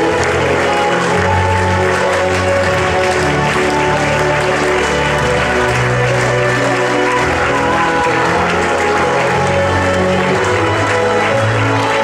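Sustained crowd applause greeting the RFC Argenteuil rugby team at the opening of a youth rugby tournament, a dense steady wash of clapping heard across the whole stretch with a low murmur underneath.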